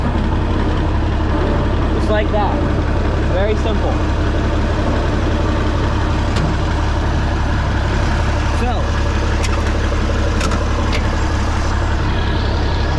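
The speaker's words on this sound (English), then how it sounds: "And now the tractor will move backwards." A loud, heavy diesel International Harvester 1066 tractor engine rumbles steadily at close range as it moves in reverse, running continuously while someone talks briefly over it.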